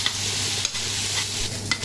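Vegetables sautéing in a pan, a continuous close sizzle with a few brief stirring knocks, heard alone.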